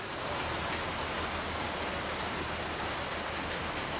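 Steady rain falls around an aerial cable car line in Siloé at dawn, an even, constant hiss of drops with no voices over it.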